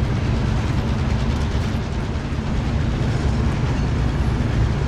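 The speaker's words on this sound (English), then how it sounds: "I'm literally on the train that's moving." A moving train in a video game, heard from on board as a loud, dense, continuous rumble with a low rolling roar and no clear pauses.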